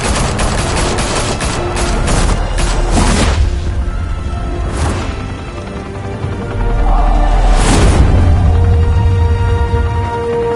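Gunfire in a Telltale Batman game: loud, rapid bursts of automatic fire crackle in a dense volley, followed by scattered single shots and a heavy crashing boom toward the end.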